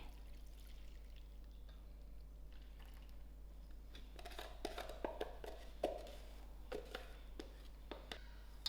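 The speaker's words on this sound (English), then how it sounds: "And I'm going to pour it gently into the flour." Activated yeast mixture is poured gently into a well of flour for hot cross buns. It makes a faint, soft trickling and dribbling sound with a few light taps and splashes building in the second half, in a quiet kitchen.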